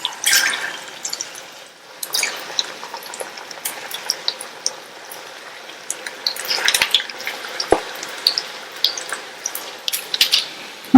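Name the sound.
varuval pieces frying in hot oil on medium heat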